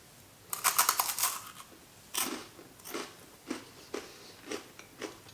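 Crisp bites into a chocolate-coated wafer bar, a cluster of crunchy snaps followed by a few separate sharp crunches and chewing, close to the microphone and quiet, with no talking.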